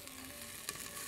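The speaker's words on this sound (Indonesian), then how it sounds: "kita sambil aduk." Shallots frying in oil in a pan while being stirred, a steady close crackling sizzle with a brief louder scrape or spatter near the end.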